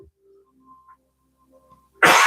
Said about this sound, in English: Sorry, got a cough again.